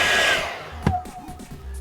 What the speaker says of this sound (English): So what we've got is the missus's favourite hairdryer.